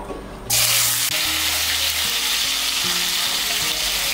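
Boiled, cut potato pieces dropped into hot oil in a pan for an Aloo Soyabean Curry, bursting into a loud, bright sizzle that stays steady and close, with faint clinks of the pan and no voices.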